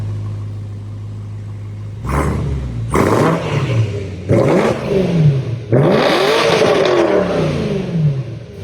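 BMW E90 M3 with the S65 V8 and small mufflers, heard first idling, then giving several sharp revs that climb and fall back, the last one held longer, loud and close.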